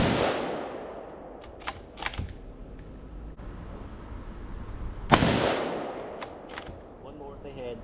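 Two sharp, loud rifle shots from a Ruger American Ranch in 5.56 at an outdoor range, spaced several seconds apart, each ringing out with a decaying echo, with some quieter clicks and handling noises between them.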